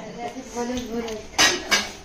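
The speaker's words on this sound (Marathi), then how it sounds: "चला भांडी घासा" Steel dishes, plates and utensils clatter and clink while being washed at a home gathering, with bright clanks in the second half under nearby voices talking.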